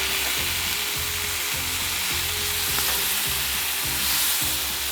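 Butter sizzling on a Blackstone griddle gives a steady, dense hiss. Under it sits a rhythmic low mechanical pulsing, close and constant, and no one speaks.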